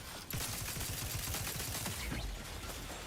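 Video game turret gunfire rattles in a fast, continuous burst of sharp shots throughout, moderately quiet and steady, with no talk over it.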